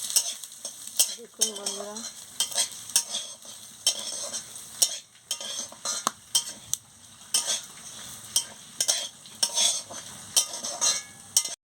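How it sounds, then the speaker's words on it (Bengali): Dal lentils frying in a pan, a steady sizzle broken by repeated scraping strokes of a spoon stirring, with a person speaking briefly over the cooking. "দিয়ে ডালটাকে একটু ভেজে নিচ্ছি ভালো করে"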